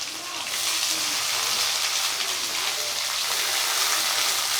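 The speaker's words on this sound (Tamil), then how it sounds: "வெங்காயத்தை போட்டு நல்லா வணக்கணும்." Onions and curry leaves fry in a pan for tomato gravy, giving a steady, even hiss and crackle of hot oil, close and continuous throughout.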